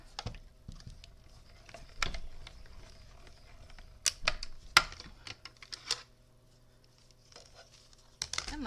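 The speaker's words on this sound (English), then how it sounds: "I'm die cutting out two things at once" A die cutting machine cutting two paper shapes at once, heard as quiet mechanical hum with scattered sharp clicks and taps, a cluster of louder snaps in the middle and another near the end.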